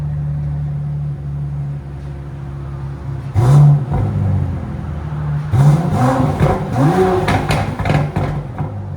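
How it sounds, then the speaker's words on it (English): An Aston Martin DB11 engine idling, then revving sharply several times in loud, rising bursts, each sweep climbing and falling back close by. "Aston Martin DB11."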